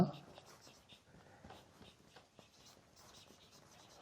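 Pen or pencil writing out a math solution by hand, a soft continuous scratching close by under a quiet voice explaining an equilateral triangle's height.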